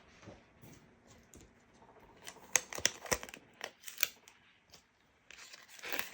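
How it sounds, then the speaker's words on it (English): Scissors snip through strips of vinyl in quick, close bursts, with sharp crisp cuts bunched together between quieter handling rustles. "we're gonna cut 2 strips of that one"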